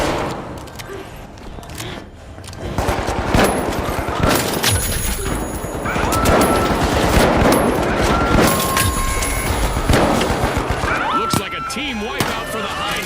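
Turret gunfire in a video game crackles in dense, rapid bursts over heavy in-game effects and music, loud and sustained through most of the stretch.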